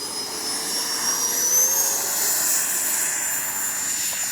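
A jet engine whines steadily as a small model jet flies past, high-pitched and sustained with a slowly shifting tone, no talking.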